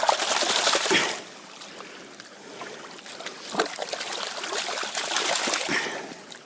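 Water sloshes and trickles in a gold pan swirled side to side while panning for gold in Wicklow, with broadband wet washes in bursts and a quieter dribbling stretch between them.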